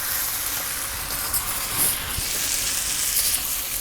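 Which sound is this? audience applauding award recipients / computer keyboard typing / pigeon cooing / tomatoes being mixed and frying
tomatoes being mixed and frying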